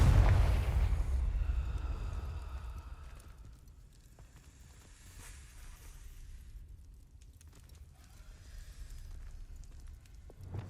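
A Confringo spell in the Hogwarts Legacy video game, a loud fiery boom at the start that fades into a rumbling, crackling tail with softer game ambience behind it.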